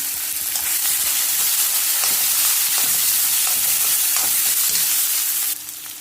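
Onion with cumin and ginger garlic paste fries in a pan for an egg fry masala, giving a loud, steady hiss and crackle with stirring scrapes, cutting off abruptly near the end.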